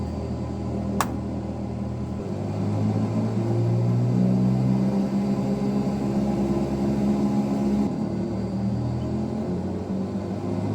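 A simulated aircraft taxiing in Microsoft Flight Simulator gives off a steady low engine rumble and drone that swells slightly partway through, with a brief sharp click near the start and no talking.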